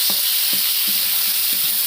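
Tomato and cumin paste frying in a pan for fish curry gives a steady, bright sizzle. A soft spatula stir knocks every half second or so, with no talking.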